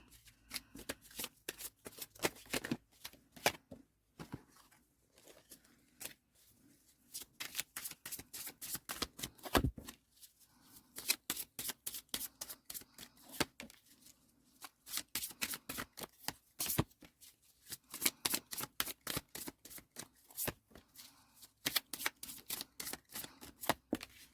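Oracle cards being shuffled in repeated bursts of rapid riffling and flicking, close and fairly loud, with brief pauses between rounds and no talking.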